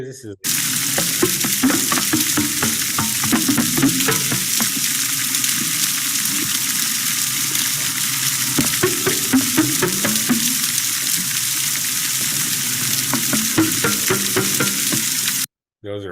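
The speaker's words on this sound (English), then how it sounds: "those are actually walruses" Walruses heard underwater, with trains of sharp knocking pulses in bursts over a constant dense crackle of snapping shrimp, all fairly loud and close.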